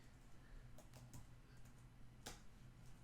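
Typing on a computer keyboard: a few faint, scattered key clicks over a low background hum, quiet and brief, with one slightly sharper click near the end.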